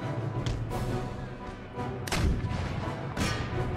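Artillery fire in a battle in the video game Empire: Total War. Dull booming cannon thuds and crashes keep coming under a dense, steady wash of battle noise.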